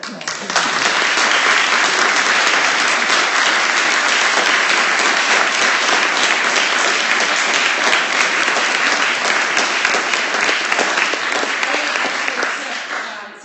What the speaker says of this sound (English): I really just wanted to give Ellie a round of applause.